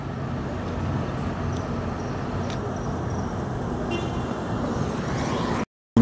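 A Kombi Svelte city bus on an urban route in Pirapora, Minas Gerais, goes by amid steady street noise, a broad continuous rumble at moderate level with faint tones above, which cuts off abruptly near the end.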